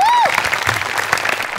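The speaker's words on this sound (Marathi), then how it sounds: "तुझ्या प्रयत्नांसाठी एकदा टाळ्या व्हायला" Audience applause rings out in a comedy show studio, steady and fairly loud after a brief sung or spoken tone at the start.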